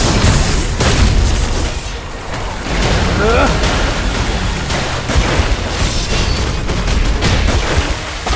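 Heavy booming blasts from combat in the game Solo Leveling Arise, loud and dense, rolling continuously with bursts and pops under a character's shouted battle cries.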